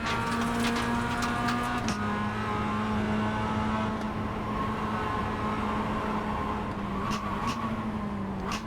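A race car engine drones loudly and steadily during a short race, its pitch holding nearly level with slight dips, a continuous close roar with no talk.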